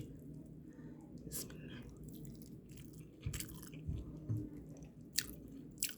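Someone eats Rani (ghol-sha) fish bhuna with rice, with soft, close, wet chewing and smacking in a quiet room, marked by a few sharper bites.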